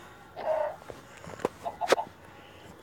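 A few short chicken clucks from a video game, slightly synthetic-sounding, over a low background hum.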